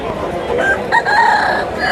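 A rooster crows loudly and close at a poultry market selling roosters and hens, one sustained call filling the moment with no talk over it.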